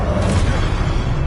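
A Confringo spell explosion from the video game Hogwarts Legacy: a short, dense, rumbling blast that fills the whole moment at steady, loud volume.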